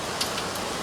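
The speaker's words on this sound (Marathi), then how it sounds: "पाऊस लय जोरात चालू आहे" Heavy rain pours down steadily, a dense, even hiss that fills the whole moment, with a couple of slightly sharper drop impacts standing out briefly.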